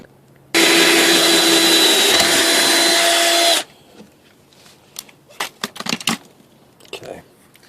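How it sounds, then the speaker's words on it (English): A drill bores a hole in metal with step-up bits while grounding an amplifier, giving a loud steady whine for about three seconds that then stops abruptly, followed by scattered clunks and handling noise. "I'm going to show you guys how I drilled this little hole right here"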